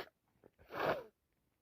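A person coming down with a bad cold gives a single quick, close sneeze after a couple of faint sniffs, a short sharp burst that cuts off into quiet.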